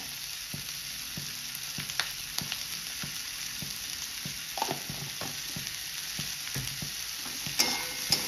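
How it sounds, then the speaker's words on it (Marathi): Fresh broad bean pods stir-fried with salt in a pan give a steady, close sizzle, broken by soft scrapes and clacks as they are tossed, with no voices. "मीठ टाकून ही पुन्हा एकदा आपण भाजी परतवून घ्यायची।"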